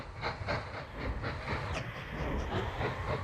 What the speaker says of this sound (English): that train's waiting here for the next one,